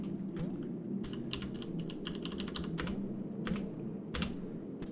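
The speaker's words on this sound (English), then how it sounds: "Do you hear that lovely clicky sound in the background?" Loud, clicky computer keyboard with a noisy spacebar, typed in steady bursts of sharp clacks throughout, close to the microphone over a low background hum.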